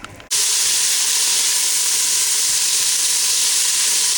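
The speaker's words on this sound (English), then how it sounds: "the onions and the celery are softening up. You can tell. Just constantly keep it mixing around in the pot. You can hear them sizzle a little bit" Onions and celery sizzling in oil in a pot, a loud, steady close-up hiss that bursts in abruptly after a brief quiet moment and continues unbroken.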